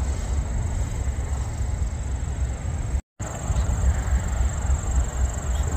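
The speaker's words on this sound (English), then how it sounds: "This was a 4x0 westbound Z train coming out of Argentine Yard, getting onto the Emporia sub" A westbound Z freight train leaving Argentine Yard onto the Emporia sub produces a steady, dense rumble with a thin high whine above it. The loud, unbroken roar cuts out for a moment midway.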